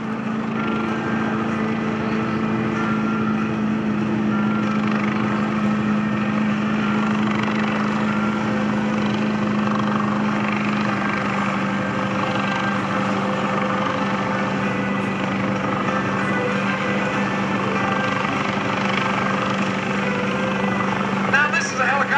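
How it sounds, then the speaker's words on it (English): A Coast Guard search and rescue helicopter hovers overhead at an airshow, its rotor and engine producing a loud, continuous chopping roar that never lets up. "this aircraft can even fly itself down to a 50-foot hover"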